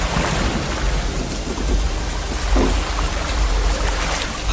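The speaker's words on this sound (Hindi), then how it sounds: "सिर्फ बिजली कड़कने की आवाजें आ रही हैं।" Heavy rain pours steadily with rumbling thunder rolling underneath, a dense, loud wash of storm noise with no voices.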